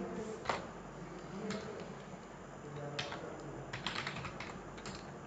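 Irregular clicking keystrokes on a computer keyboard as HTML code is typed, close and fairly quiet, with a few sharper taps standing out.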